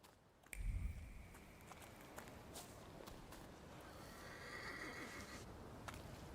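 A horse in Into the Dead: Our Darkest Days gives a sharp neigh near the start, followed by soft hoof steps and quiet game ambience.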